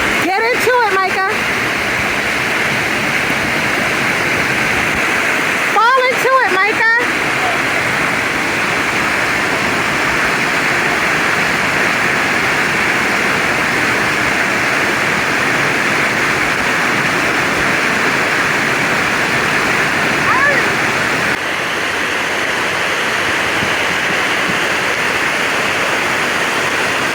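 A continuous heavy rush of water pours down Dunn's River Falls in Jamaica, loud and close, with a couple of brief handling bumps interrupting the steady roar.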